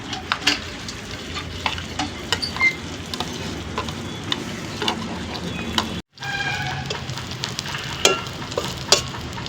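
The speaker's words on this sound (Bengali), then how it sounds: "এবার ভেজে নেব কালো জিরে, লঙ্কা, পেঁয়াজ, রসুন" Black cumin, chillies, onion and garlic fry in hot oil in a wok: a continuous crackling sizzle with frequent stirring clatters and scrapes, briefly cutting out once, no talk.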